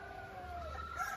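An ornamental Onagadori rooster crows once in a drawn-out call, moderately distant and fairly faint, over a steady background hiss.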